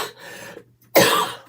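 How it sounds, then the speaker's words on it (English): A person coughs in a short fit indoors, two rough bursts separated by a brief pause, the second louder and close to the microphone. "Enough coughing this morning, guys."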